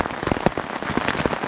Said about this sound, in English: it's raining heavily outside.